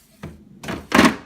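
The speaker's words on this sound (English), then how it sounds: "You can hear it do a nice clunk there when it's shut." A drawer of a Hoover Dynamic 4x4 American fridge freezer slides in and shuts with a series of three soft, close thunks, the last the loudest, with no voices.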